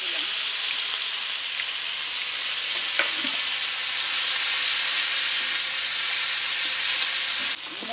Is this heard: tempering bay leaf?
yes